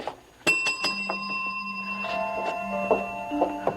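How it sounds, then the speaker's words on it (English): A doorbell in a business lobby rings as several sharp, bright dings in quick succession, each leaving a ringing tone that fades out slowly, followed by softer chimes. No one speaks. "Brian, ring the bell again"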